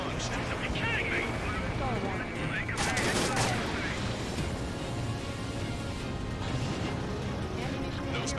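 Anti-air gunfire rattles in Ace Combat 7 as a dense, continuous barrage of distant bursts and rumble, with a louder flurry midway and game voices talking over it.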